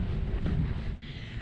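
Strong wind on a mountain path in the Lake District, a steady roaring rush and buffeting against the microphone that dips briefly, close and continuous, with no voices.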